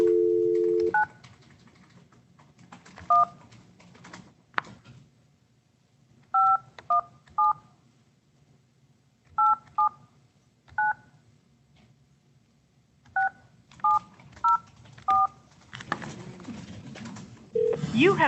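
Touch-tone telephone keypad being dialed: a dial tone, then about a dozen separate DTMF beeps in irregular bursts, each brief and clear against a quiet room with faint background murmur.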